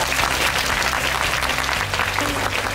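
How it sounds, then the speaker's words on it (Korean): Film audience applauding the actors of Parasite, a thick, loud continuous wall of clapping from a large crowd, with a low hum underneath and no break in the applause. "큰 박수 부탁드립니다."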